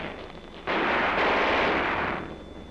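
A burst of military machine gun fire from platoon positions, a dense continuous roar of rapid shots lasting over a second before trailing off, loud and close with no talk.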